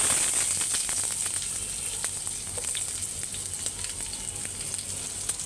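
Onion fries in a pan as the start of a sweet pumpkin bhaji, a soft steady sizzle with scattered light crackles, moderately near and fairly quiet, no speech.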